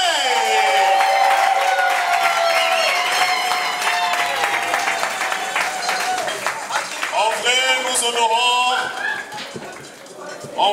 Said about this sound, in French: Est-ce que nous pouvons l'applaudir